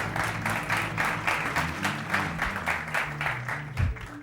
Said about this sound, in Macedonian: Аплаудираш што сум низок.